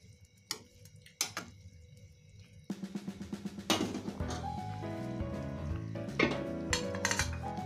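A spoon stirring spinach kofta curry gravy in a pot, with repeated metallic clinks and scrapes against the pot, sparse at first and then a faster run of close, clattering strokes.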